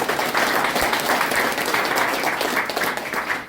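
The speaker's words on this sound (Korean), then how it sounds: "다시 한번 박수 부탁드립니다" Steady applause from a crowd at a political committee launch ceremony, a dense wash of clapping hands that continues throughout.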